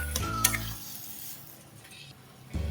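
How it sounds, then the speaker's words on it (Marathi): Brinjal being sautéed with onion and spices in a pan for a spicy Maharashtrian vangyache bharit, with a loud clatter of spoon on metal at the start and end and a soft steady sizzle between. "2 ते 3 मिनिट वांग छान कांद्यामध्ये मसाल्यांमध्ये परतवून घेऊया"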